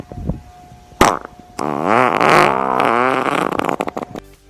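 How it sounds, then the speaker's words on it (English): A super long fart plays out loud and close, a sharp pop followed by an extended wavering, buzzing tone lasting several seconds with a bubbly sputtering finish. "it turns out to be a super long fart"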